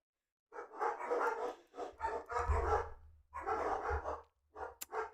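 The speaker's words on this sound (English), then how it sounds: "Now they're barking." Dogs bark in several close bursts of rough, rhythmic barking with short pauses between them, loud against an otherwise quiet background.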